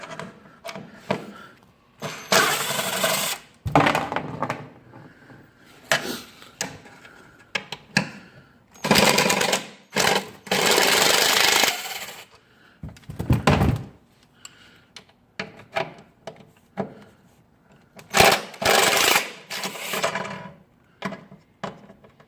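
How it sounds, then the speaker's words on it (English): Bolts come off a Polaris 850 Scrambler ATV during an oil change, heard as irregular close metallic clunks, clicks and thumps from tools and parts, in bursts separated by brief quieter gaps. "And you just want to take these bolts off."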